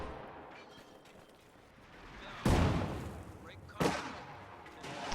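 An infantry support gun fires twice in a real-time wartime strategy game. Two deep, heavy booms land about a second apart, each with a rumbling tail, over steady quiet background noise while a commentator talks.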